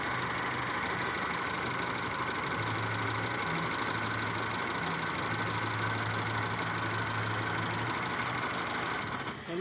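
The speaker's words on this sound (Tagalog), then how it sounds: "umanda na yung sasakyan ni Mr. Bean" A 1997 Kia engine, newly restarted after six months of not starting, idles close by with a continuous low rumble and faint knocking texture, running evenly the whole time with no voices.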